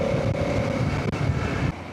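A TVS RTX 300 motorcycle engine runs steadily, a loud, continuous droning rumble heard close up, with a brief dip partway through and no talking.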